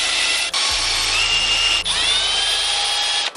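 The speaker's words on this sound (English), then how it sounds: "we're gonna drill at about a 45 degree angle straight through it" A power drill bores into the gear shaft of a BMW S65/S85 throttle actuator, a loud close high-pitched whine held steady through two short pauses.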